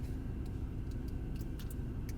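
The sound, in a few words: tow truck driving down the road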